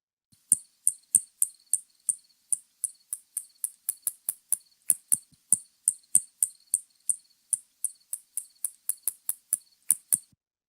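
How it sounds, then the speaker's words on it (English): A rapid series of sharp, high-pitched clicks and chirps repeats in quick succession against silence: spotted bat echolocation calls, audible to humans. "that was another really classic spotted bat"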